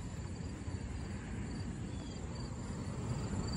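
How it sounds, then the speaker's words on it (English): Crickets chirp at night in a continuous, faint, high buzzing layer over low background rumble, with no voices. "Bro, it's the crickets too."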